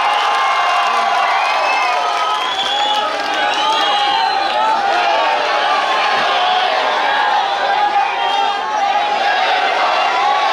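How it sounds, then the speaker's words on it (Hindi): Large crowd at a political rally in Aurangabad cheering and clapping to welcome Asaduddin Owaisi, a loud, dense, continuous roar of voices, whoops and applause throughout. "जोरदार तालियों से इस्तकबाल करें।"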